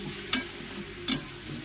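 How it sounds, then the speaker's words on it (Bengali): Vegetables fry in a pan under a low steady sizzle, with two crisp scraping strokes of a spatula stirring them close by. "এই যে সবজিটা ভাজা ভাজা হয়ে গেছে ভালোভাবে।"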